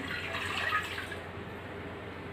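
Water runs steadily into a metal pressure cooker for about two seconds, a continuous close splashing pour that stops abruptly, followed by a brief clatter.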